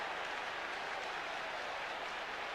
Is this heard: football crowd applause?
yes